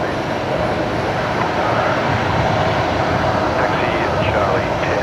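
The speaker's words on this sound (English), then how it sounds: "There's a 737 departing prior to their arrival, which will be velocity 348" A Boeing 737-800 jet departs Brisbane Airport for Melbourne, producing a loud, steady broadband engine roar that holds for the whole stretch, with voices talking over it.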